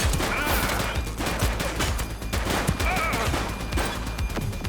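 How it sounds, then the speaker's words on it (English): A rapid burst of gunfire in The Precinct, a police shootout game, with dense, continuous shots and no pause through the whole stretch. "He's shooting!"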